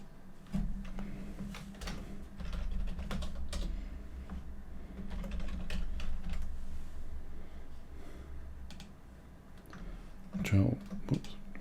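Computer keyboard typing with scattered quick key taps and clicks while working in Figma, close and fairly soft under someone talking.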